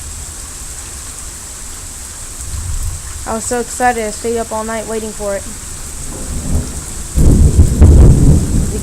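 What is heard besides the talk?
loud thunder and rain in Texas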